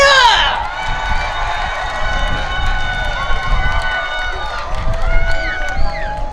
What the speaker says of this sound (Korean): 여러분 박수와 함성 보내주세요!